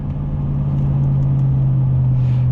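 Steady low engine drone from a 2002 Chevrolet Silverado 2500HD pickup under way, a constant close hum with road rumble beneath it and no voices over it.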